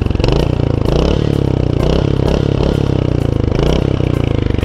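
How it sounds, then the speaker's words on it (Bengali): A 2024 Royal Enfield Hunter 350 motorcycle idles close and loud after an electric start, a steady, thumping single-cylinder beat with a slight clatter that repeats evenly throughout. "এখন ইগনিশনটা অন করলাম, এবার সেলফ স্টার্ট আমি দিয়ে দিচ্ছি।"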